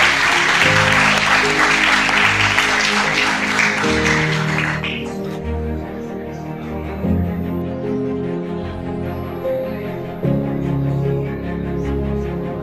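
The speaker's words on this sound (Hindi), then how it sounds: "Have a round of applause for Principal sir" Loud audience applause for the principal at a seminar at GIT Jaipur fills the first few seconds, then stops, leaving steady tonal music playing alone.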